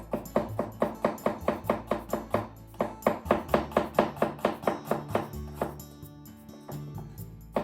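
Peeled garlic cloves are sliced thin with a knife on a cutting board, in a quick, steady series of crisp chops close by, with a short pause midway before the rhythm picks up again.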